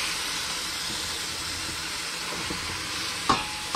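Snapper fish frying in bacon grease just after being flipped, a steady close sizzle that holds evenly throughout, with a sharp metallic clink near the end.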